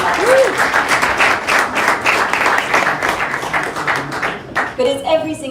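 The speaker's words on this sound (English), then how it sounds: "If we could just have a round of applause for that" Audience applause at a British Indian diaspora event, with dense, loud clapping from a roomful of people that fades toward the end as a voice begins to speak.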